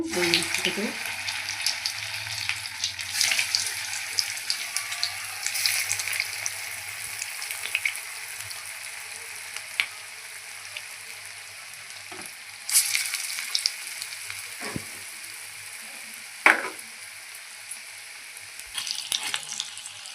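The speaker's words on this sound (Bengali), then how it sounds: "এগুলো ভাজা হচ্ছে দেখুন" Vegetable chops fry in hot oil with a continuous, even sizzle, broken by a few sharp clinks and scrapes of stirring, close and alone without any talk.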